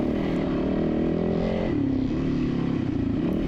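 Dirt motorcycle engine droning steadily as the bike rides through a sandy wash on a hare and hound desert course, a close, continuous buzzing with slight throttle variation and no talk.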